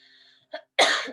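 A single sharp cough bursts out at the start of a song, after a faint sustained tone and a short thump, loud and close, with no talking.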